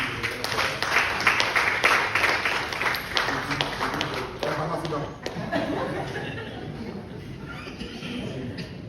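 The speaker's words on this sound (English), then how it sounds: "Let's give them a clap." Audience applause at a live press conference, dense clapping from many hands that swells early and then thins out, with a voice talking over it toward the end.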